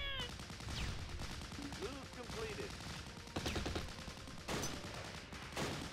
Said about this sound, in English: let's get some shots in though